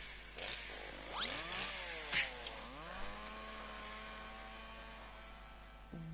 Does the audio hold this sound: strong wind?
no